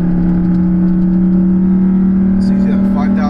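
A Chevrolet Colorado engine with its exhaust manifold deleted is revved at full pedal, giving a loud, steady, close droning roar that holds throughout while people talk over it.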